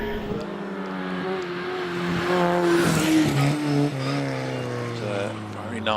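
A hillclimb race car powers through its run at Harewood, engine note climbing and shifting with a brief tyre squeal, loud and close while a commentator talks over it.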